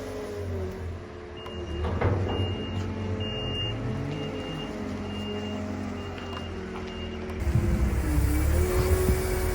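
A lorry idles and moves beside a farm shed during wheat loading, its engine rumbling steadily and close, with repeated reversing beeps pulsing over it and a louder engine surge near the end.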